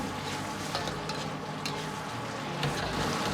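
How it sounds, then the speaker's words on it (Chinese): Chicken stir-fries in a wok over high heat with chunks of green chili pepper and garlic cloves, seasoned with salt and sugar, giving a loud, steady, unbroken sizzle with no voices. "继续保持大火翻均匀，化开调料，防止粘锅糊底"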